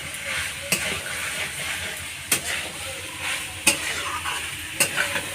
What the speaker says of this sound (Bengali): এবার এর মধ্যে আমি আলু আর এই মটর সিদ্ধ করা জিনিসটা আমি দিয়ে দেবো। এবার একটু ভালো করে কষিয়ে নাড়িয়ে নেব।